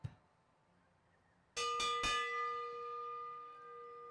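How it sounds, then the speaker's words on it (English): A bell is rung to mark the elimination lap at a Michigan state championship race: three quick, loud clangs that leave a long, ringing tone fading out after a quiet opening. "With that bell so expertly rung by our bell ringer, Lena Scaglione."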